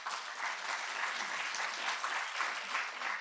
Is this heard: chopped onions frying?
no